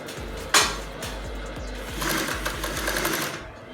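A Two Lion TL-335A cylinder-arm sewing machine stitches leather close up with a quick, even run of mechanical thumps. It starts with a sharp knock and speeds into a faster, busier clatter toward the end.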